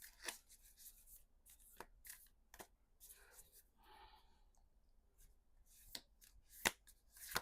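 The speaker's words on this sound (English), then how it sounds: "I saw it when I was shuffling the deck" A tarot card deck is shuffled by hand at close range, quiet and intermittent, with soft riffling passages broken by sharp card clicks and taps.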